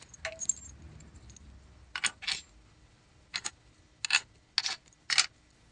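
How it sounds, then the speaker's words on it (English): Loose metal transmission bolts from an engine rebuild clink and rattle together in the hand in several short, sharp bursts separated by brief pauses, close up with no talking. "I've got my transmission bolts here."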